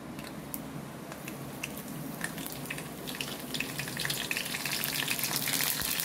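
Curry leaves sizzling in hot oil with mustard seeds and cumin, a continuous crackling fry with scattered sharp pops that grows slightly louder toward the end.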